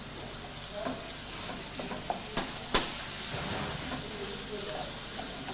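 Tomato paste stirred and frying in a pan for mıklama, a steady soft sizzle and hiss with a few sharp scraping clicks of the spoon partway through, close and alone.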